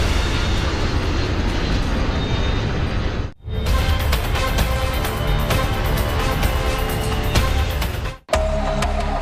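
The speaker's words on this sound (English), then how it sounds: "A jet is flying over the Florida Everglades while the crew is trying to fix a problem with the nose gear." Lockheed L-1011 jet flying over the Florida Everglades with a nose gear problem, a loud, steady broadband roar of jet engines, broken by two brief drop-outs, with no voices.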